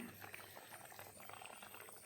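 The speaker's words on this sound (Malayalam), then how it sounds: "തിളച്ചുകൊണ്ടിരിക്കുകയാണ്" Egg curry bubbling in a pot on the stove, a steady, close simmer of small popping bubbles that continues evenly throughout without pause.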